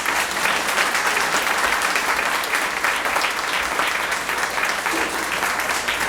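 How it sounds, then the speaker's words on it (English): Steady, dense applause from a pageant audience at the Ms. Senior Davie County 2024 event, sustained and even at close range for the full stretch without a break. "Let's give one more big round of applause to all of our contestants"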